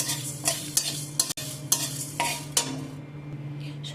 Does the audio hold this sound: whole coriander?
yes